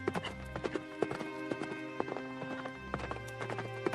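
Horse hooves in a cartoon story clip-clop in a steady, even rhythm over a background music bed, with a faint whinny hint and no talk.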